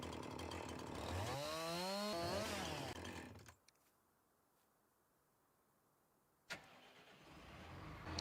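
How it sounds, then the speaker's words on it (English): A chainsaw in Farming Simulator revs loudly with a rising and falling whine for about three seconds, cuts off into near silence, then a sharp knock and steady engine drone return. "That unhooked them all when you cut one with a chainsaw."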